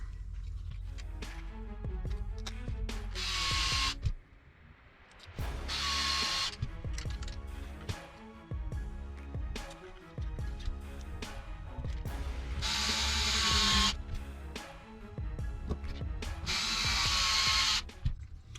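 A driver sets screws into the rear bumper of an RC car chassis during assembly, with repeated ratcheting bursts and mechanical clicking at close range, broken by a couple of short pauses.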